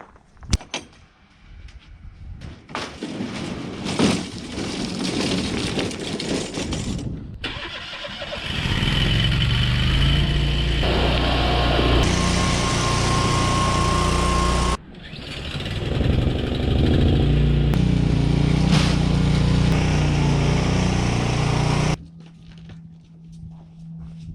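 A Toro Grandstand MultiForce stand-on mower engine, set up for snow plowing, starts after a few clunks and runs loud and steady near the microphone for about fourteen seconds, briefly drops, then carries on before cutting off.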